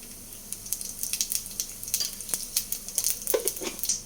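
Mustard seeds and cumin sizzle in hot oil for a Kerala cherupayer curry, with a steady close crackle and scattered sharp seed pops throughout, and no voices.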